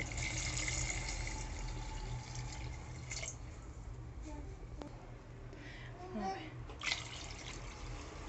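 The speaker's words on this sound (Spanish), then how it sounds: "ya he echado los garbanzos, como podéis observar ahí, que ha empezado a hacer, y ahora le voy a echar agua" Water poured into a pot of Moroccan harira with chickpeas, a continuous splashing gurgle with scattered drips, fairly close and steady throughout.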